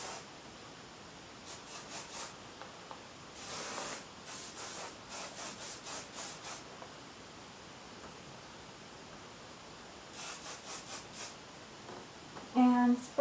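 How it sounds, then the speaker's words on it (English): An aerosol anti-humidity hairspray hisses in short repeated bursts, some quick and some longer, with quiet pauses between them and a brief voice near the end. "and spray all of your head"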